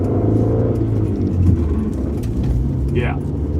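A manual car's engine rumbles steadily while driving, a low drone inside the cabin with a brief rise in pitch near the end.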